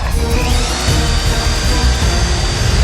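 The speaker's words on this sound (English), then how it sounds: "If I force too hard on the drill" A power drill whines loudly and steadily up close, grinding continuously through ice with no pauses.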